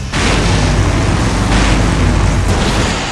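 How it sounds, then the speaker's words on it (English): A huge explosion in the Full Throttle Remastered video game erupts into a loud, sustained roaring rumble that fills the whole moment without easing off. "Now that's an explosion, ladies and gentlemen."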